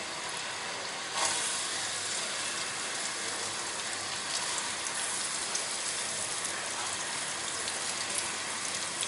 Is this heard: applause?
no